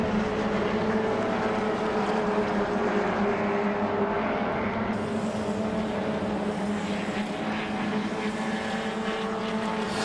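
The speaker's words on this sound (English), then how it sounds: "Cameron McConville has got in front of Giovanni in the Monterosso car, and has got in front by probably 20 or 30 metres" Race car engines at Calder Raceway during a 1994 three-hour HQ race, a sustained droning roar of several motors at a steady pitch, moderately loud and continuous, with no commentary heard over it.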